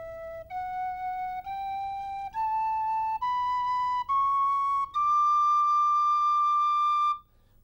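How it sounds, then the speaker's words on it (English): An Irish tin whistle plays an ascending scale with tongued articulation, each note starting with a small gap and crisp attack, the last note held longest, clear and alone. "Now, that is the scale played with your tongue, using your tongue to actually get emphasis on the notes"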